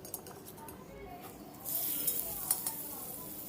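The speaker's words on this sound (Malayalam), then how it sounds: "ഇനി നമുക്ക് മൂടി ഒന്ന് തുറന്നിട്ട് ഇതൊന്ന് മറിച്ചിട്ട് കൊടുക്കാം." Jackfruit kalathappam cooking in a covered pan, a soft low hiss that swells into a brighter sizzle as the lid is lifted and the cake flipped, with faint clinks of metal.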